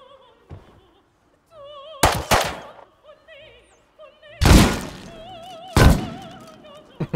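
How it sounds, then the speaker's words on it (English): Traps break apart in a video game with several loud, sharp crashing impacts in separate bursts, set against tonal game music and effects. "he's destroying my traps"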